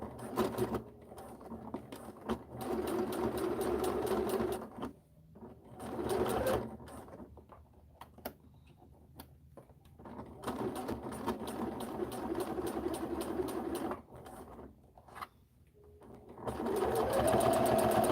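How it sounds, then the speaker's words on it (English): A sewing machine top stitching in several long runs of steady whirring, stopping and restarting between bursts, close and fairly quiet with faint background noise. "now we're going to top stitch."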